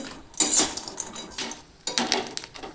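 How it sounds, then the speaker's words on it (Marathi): Coconut is dry-roasted in a pan for kala masala, heard as bursts of scraping and clattering from a utensil against the metal pan, two main clusters separated by quieter stretches. "खोबरं खूप चांगल्या प्रकारे भाजून घ्यायचं जोपर्यंत लाल होत नाही"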